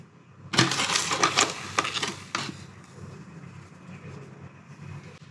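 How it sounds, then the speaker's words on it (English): Two heaped tablespoons of caster sugar tipped into a bowl for steamed pork bun dough, a close burst of granular pouring and clinking spoon against bowl, then quieter rustling. "I'm going to add in 2 heaped tablespoons of caster sugar"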